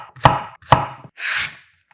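A knife cuts through zucchini on a cutting board with two crisp, close chops, then a softer, longer slicing swish, all alone and without talk.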